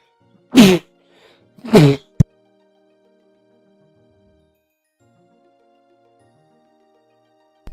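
Two loud, close sneezes from a person burst out about a second apart, followed by a sharp click, then near silence with a faint hum.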